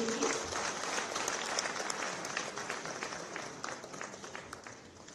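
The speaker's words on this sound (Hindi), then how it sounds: "जोरदार तालियां इन बच्चों के लिए।" An audience gives sustained applause for specially able students at an event with Himachal Pradesh Chief Minister Sukhvinder Singh Sukhu. The dense clapping is loud at first and slowly tapers off.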